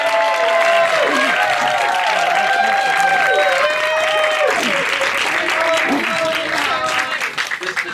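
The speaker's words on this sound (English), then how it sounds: "let's all have a nice round of applause for Lisa Natoli." A conference audience applauds loudly and continuously for a speaker, dense clapping near and full, while a voice talks over it and the clapping thins at the end.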